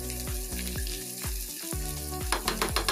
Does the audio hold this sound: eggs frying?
yes